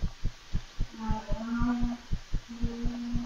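Heartbeat sound effect in the horror video game One Late Night: a steady double-thump pulse repeating about three times per second, close and prominent, with a low musical hum swelling underneath.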